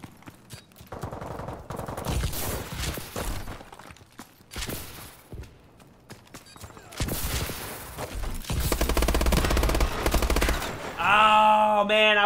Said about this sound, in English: He wasn't even shooting at me. He was shooting the other guy.